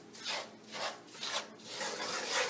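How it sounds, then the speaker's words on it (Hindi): Semolina and gram flour being dry-roasted and stirred in a pan over low heat, a soft repeated scraping and rasping in slow strokes, close and steady with no talk. "सूजी को भूनने के 1 मिनट के बाद बेसन डाल के 1 मिनट भून लें।"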